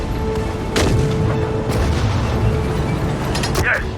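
Units fire on a target during a World War II Falaise Pocket battle in the game Sudden Strike 4, with a few dull booms and sharp shots standing out over a constant rumbling battle din.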